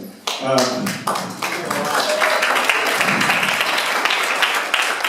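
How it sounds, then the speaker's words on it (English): Audience applause at a Green Party meet and greet, a burst of many hands clapping that rises quickly and holds steady for several seconds, fairly loud and close. "while we're giving out applause"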